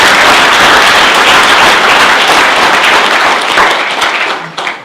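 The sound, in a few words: audience applause for the chief of police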